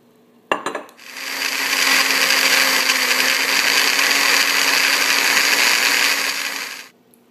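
After a couple of clattering knocks, a blender starts up and runs loud and steady, whirring through pinto beans with olive oil for about six seconds before cutting off abruptly.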